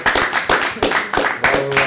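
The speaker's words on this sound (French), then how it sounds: "Et je pense qu'on peut les applaudir." Audience clapping after a hypnosis show, a short burst of several close hand claps in an uneven rhythm.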